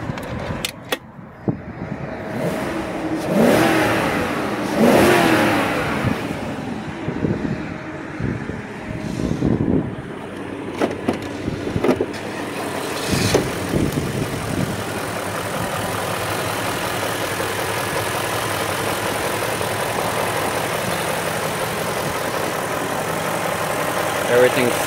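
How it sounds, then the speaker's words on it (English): A 2003 BMW X5 4.6is V8 starts, revs briefly a few times and then settles into a steady, even idle, heard close up with speech over the early revving. "Let's listen to the engine real quick."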